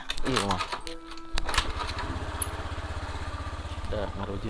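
A small motorcycle engine starts and settles into a steady, rapid putter at idle, close by, with people talking over its opening moments.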